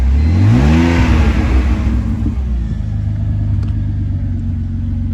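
A daily-driver car engine revving up then settling into a steady idle, loud and close, with a deep rumbling drone and no talking.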